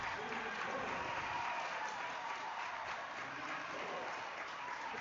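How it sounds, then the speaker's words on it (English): Basketball crowd at a Mountain View Friday night high school game cheering and applauding after an and-one play, a dense, steady wash of clapping and voices filling the gym for several seconds. "Crowd is getting excited."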